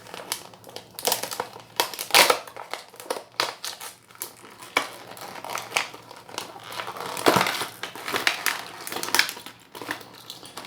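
Stiff plastic packaging crinkles, crackles and crunches in dense, irregular bursts as a small die-cast toy car is worked out of a large clear insert, loud and close throughout with no voices.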